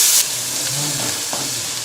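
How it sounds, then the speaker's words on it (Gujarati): Ginger, chili and garlic paste sautés in hot oil with asafoetida and turmeric for ulta vada pav: a close, continuous hissing sizzle with faint stirring scrapes, steady throughout with no speech. "હવે તેમાં આદુ મરચાં અને લસણની પેસ્ટ પણ ઉમેરી દઈએ બધું થોડી વાર માટે સાંકળી લઈશું"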